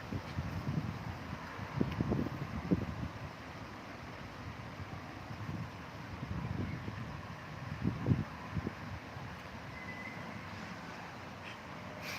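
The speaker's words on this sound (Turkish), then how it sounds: "Rüzgar var." Wind gusts rumble and buffet the microphone in uneven bursts over a steady low outdoor hiss on a hot day facing Uludağ, with no voices.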